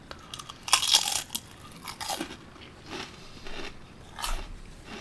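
Salt and pepper pork rinds crunch in several brief, crisp bites with quieter chewing between them, close and fairly loud with no talking.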